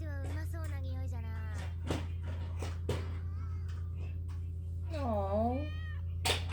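A cat meows several times in an anime episode, high wavering cries over a steady low hum, with character speech between the meows.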